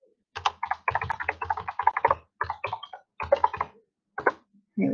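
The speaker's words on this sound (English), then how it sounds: "I can type it in there as well." Typing on a computer keyboard in quick clustered bursts of clicks with short pauses between, close and clear with no talk.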